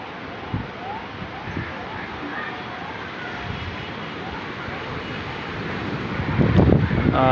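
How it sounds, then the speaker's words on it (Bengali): Steady storm wind in Khulna rushes and roars around the microphone, growing stronger toward the end as rain begins, with occasional knocks and a voice in the background. "ঝড় শুরু হয়ে গেছে, বাতাসের গতিবেগ আস্তে আস্তে বাড়তেছে।"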